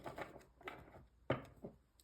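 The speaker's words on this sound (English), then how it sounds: "One more shuffle." A few quick riffling, slapping bursts of tarot cards being shuffled, close by, with short pauses between them.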